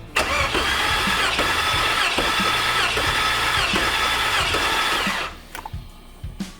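Racing truck engine with a blower cranking over with throttles open during a compression test, a rapid rhythmic starter churn lasting about five seconds before cutting off, followed by a few faint clicks.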